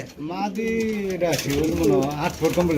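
Pigeons coo close by at a pigeon sale, their soft warbling calls blending with nearby human voices.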